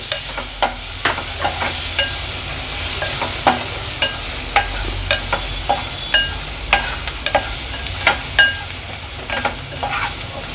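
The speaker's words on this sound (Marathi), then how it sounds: "आता ह्याच्यामध्ये आपण टोमॅटो ॲड करणार आहोत टोमॅटो पण छान परतून घ्यायचा आहे" Tomatoes sautéing in a pan of masala for a spicy pumpkin and pigeon-pea dal, with a steady close sizzle broken by repeated sharp scrapes and clicks of a spoon stirring against the pan.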